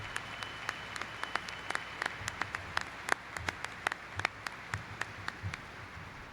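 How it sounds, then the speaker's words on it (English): An audience at a gathering gives a round of applause after a rendition of a fight song, with steady, scattered hand clapping and sharp individual claps standing out over a dense, even bed of clapping. "Round of applause."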